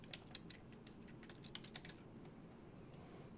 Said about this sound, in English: we'll type in all caps